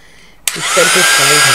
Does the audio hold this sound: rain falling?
no